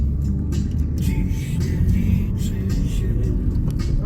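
A car climbing a winding mountain serpentine road, heard from inside as a steady, loud low engine and road rumble with no clear talk.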